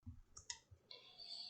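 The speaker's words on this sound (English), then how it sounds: "Then we're going to go right mouse click" A couple of small, crisp computer mouse clicks close to the microphone, followed by a faint higher-pitched hiss, in an otherwise quiet space.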